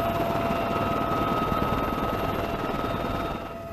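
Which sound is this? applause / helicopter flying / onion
helicopter flying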